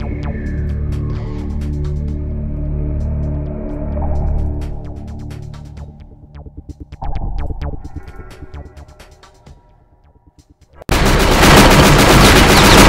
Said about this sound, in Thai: นี่เราก็สามารถใช้ปืนกลในการยิงได้นะครับ